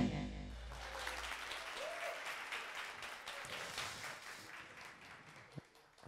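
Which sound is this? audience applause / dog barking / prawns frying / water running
audience applause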